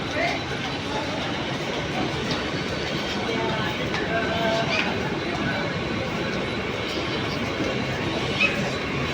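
Mumbai Central railway station rumbles with a steady roar of trains and rail traffic, a dense continuous wash of noise with occasional metallic clicks, while voices talk nearby.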